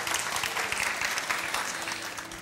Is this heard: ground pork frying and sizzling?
no